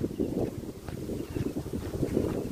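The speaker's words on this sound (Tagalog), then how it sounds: "Lakas ng hangin." Strong wind outdoors in Nepal buffets the microphone in a steady, low roar with gusty surges, continuous throughout and loud up close, no voices.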